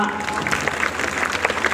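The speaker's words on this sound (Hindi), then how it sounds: "जोरदार तालियां" Applause from an audience at a village school event where children have been performing, a steady wash of clapping that holds at a moderate level throughout without gaps.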